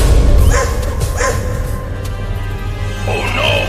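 A cartoon dog barks loudly and close, a few separate sharp barks spaced over a couple of seconds against a busy background.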